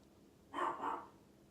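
One faint, distant dog bark with a quick double pulse, alone against quiet background hiss.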